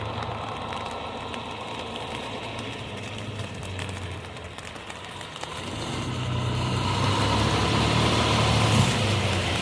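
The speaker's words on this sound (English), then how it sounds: "We got some trucks coming here." A truck engine idles in the rain, a steady low rumble and vibration under a constant wash of rainfall, growing somewhat louder and heavier toward the end, with no voices.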